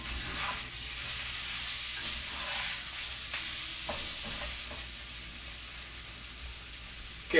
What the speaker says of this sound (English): Some salt, fresh ground black pepper, and Italian herbs. I am going to give that a stir here.